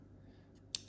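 Two sharp, close clicks near the end from a JLF arcade joystick being handled during a Sega Lindbergh cabinet restoration, following near silence.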